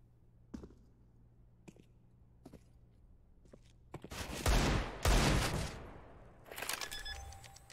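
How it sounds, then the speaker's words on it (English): Gunfire in a Counter-Strike-style shooter game: a few sparse clicks and taps give way to loud, close bursts of rapid rifle fire, followed by a further quicker volley. "Burst in from Speedy, takes out ANJ"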